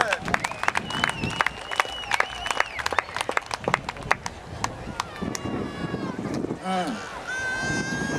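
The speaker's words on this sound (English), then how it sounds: "Give him a big round of applause, ladies and gentlemen." Scattered hand claps and whistles from an outdoor audience at the Pasifika 2010 festival's Samoan Village, greeting a musician, with sparse, uneven clapping, cheers and talk over the crowd.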